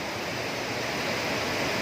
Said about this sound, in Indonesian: ada peningkatan air Sungai Babolon